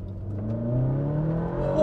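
A McLaren MP4-12C pulls out into rush-hour traffic, its engine note rising steadily as it revs and gathers speed, heard from inside the cabin and growing louder toward the end.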